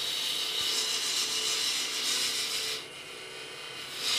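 A cutting tool shaves wood from a spinning wooden bowl on a lathe, giving a steady, close scraping hiss that dips briefly near the end with no voices.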